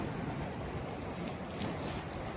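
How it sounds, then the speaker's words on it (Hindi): Steady rain falling on an apple orchard during cold weather, a constant, even hiss of drops with no breaks or voices. "तो अभी बारिश थोड़ी सी ज़्यादा हो गई है"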